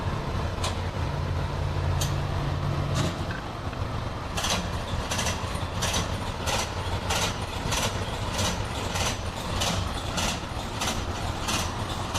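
A train rolls past on the rails with a steady rumble and a regular run of sharp clickety-clack wheel beats over the joints, close by and fairly loud.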